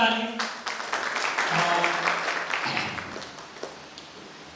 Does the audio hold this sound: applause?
yes